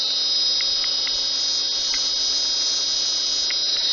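A steady high-pitched whine of a small drill with a 5/64 bit running continuously into wood, close and fairly loud, with faint ticking as the bit bites.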